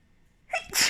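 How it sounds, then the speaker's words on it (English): A single sharp human sneeze bursts out after a quiet pause, a brief inhaled build-up followed by a loud, close explosive release. "I have to sneeze."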